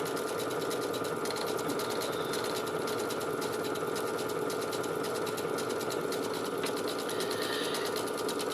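A sewing machine runs steadily, sewing a close blanket stitch set at 3.5 mm long by 2.5 mm wide, a continuous even whirring hum at moderate level with no voices.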